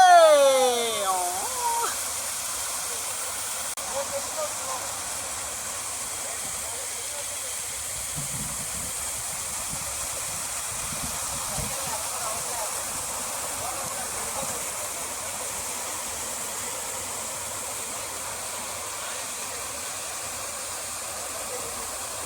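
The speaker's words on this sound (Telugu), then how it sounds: "ఒక్కసారి ఆ వాటర్ సౌండ్ వినండి" Continuous rushing water of Madhugiri Falls roars steadily at moderate level; a brief whistly tone opens the clip and muffled voices drift faintly under the flow.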